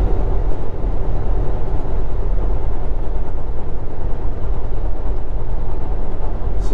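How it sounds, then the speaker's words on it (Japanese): A freight train passes at a crossing in Utah's salt flats, heard as a dense, continuous low rumble and roar with steady rattling that neither rises nor fades, recorded from inside a long-haul truck. "おー、貨物列車と交差しますね。"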